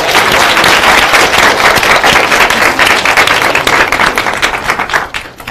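Lecture audience in a university hall applauding a guest professor, a loud, dense burst of many hands clapping that carries steadily before thinning and fading near the end.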